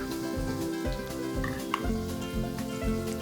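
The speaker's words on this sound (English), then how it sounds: "You can hear the tofu belly cooking in the corner there." Steady frying sizzle from tofu belly in a pan with a continuous crackling hiss, fairly quiet, with a few small pops and no voices.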